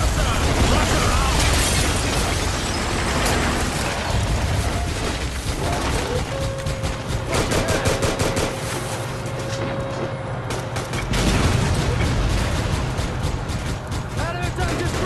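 Explosions and gunfire fill a battle in the 2006 video game Moscow Rhapsody as an enemy tank is destroyed, a dense, continuous barrage of booms and pops with a low rumble and voices mixed into the din.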